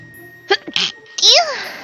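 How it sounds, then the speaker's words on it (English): A single close, sharp sneeze bursts out at a Dungeons & Dragons table, following a few brief spoken syllables and a short hush. "hold on, I'm gonna sneeze, I think"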